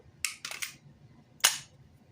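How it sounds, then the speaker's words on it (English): Gunshots in a Skinwalker horror video game, four sharp cracks: three quick shots in a burst, then a pause and a louder single shot, close and with no talking. "I'll bust a cap in the Skinwalker. I got my Darth Vader anti-Skinwalker bullets."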